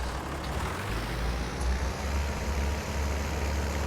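A Deutz tractor with 140 horsepower in Farming Simulator 19 drones steadily at idle, a continuous low engine rumble with no talk over it.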